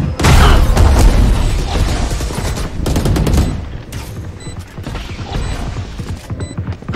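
Automatic weapons fire rattles in a shooter video game. A loud, dense burst opens the scene, then rapid bursts continue in clusters with mechanical clicks and rattles between them, staying close and forceful.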